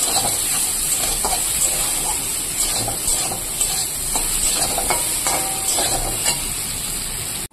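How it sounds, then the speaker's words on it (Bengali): Nutrela soya chunks coated in salt, turmeric and oil fry in a pan with a loud, steady sizzle, while a utensil stirs and scrapes through them. "তো এখানে আমি নিউট্রেলাটা ভেজে নিয়েছি, দেখো লাল লাল করে।"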